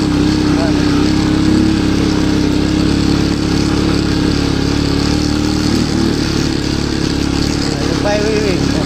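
A motorcycle engine drones steadily at close range for the whole stretch, loud and constant, with voices talking faintly underneath.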